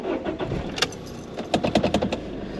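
A car engine is cranked in a short attempt, with a faint clink like keys, a few sharp bursts and a quick uneven chug-and-catch over under three seconds, close by.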